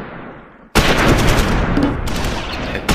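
Gunfire erupts suddenly in the Close Combat 5 war game, a dense, loud crackle of rifle and machine-gun shots sustained for a couple of seconds after a brief quiet lead-in.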